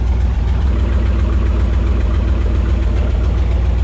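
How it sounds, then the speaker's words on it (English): An old dump truck's engine idling with no throttle, a loud, close, steady low rumble with an even rapid knock-like pulse throughout. "No throttle, but I mean, it's idling."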